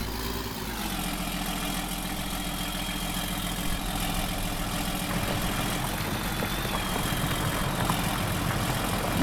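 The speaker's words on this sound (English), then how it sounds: "Oh, the sound of this beautiful, beautiful tractor is awesome" A tractor engine in Farming Simulator 19 drones steadily and loudly throughout, a continuous low mechanical hum with no talk over it.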